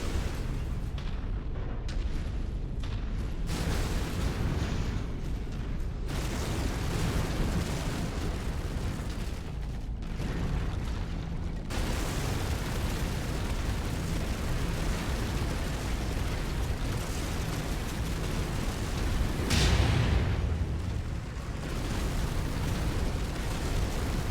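Continuous missile explosions and battle roar in the MechWarrior 5: Mercenaries video game, a dense, unbroken rumble with one heavier blast standing out near the end.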